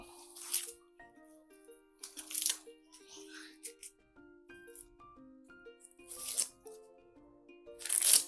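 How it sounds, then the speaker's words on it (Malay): Corn husks are peeled off the cobs by hand while preparing grilled corn, giving four or five short, crisp tearing rips spaced apart over soft background music. "Korang kupas kulit dia dan tinggalkan batang dia"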